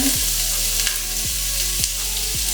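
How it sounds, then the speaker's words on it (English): Red onion fries in butter in a pot over medium heat, making a steady close sizzle with a few periodic stirring scrapes, and no one speaks. "Fry the red onion around 2-3 minutes until it's slightly softened."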